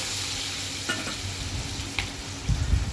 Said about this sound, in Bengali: এদিকে পেঁয়াজও কিন্তু আমার লাল লাল করে ভাজা হয়ে গেছে